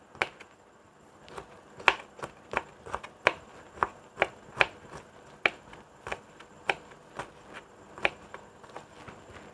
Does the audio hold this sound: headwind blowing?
no